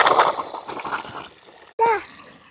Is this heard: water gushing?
yes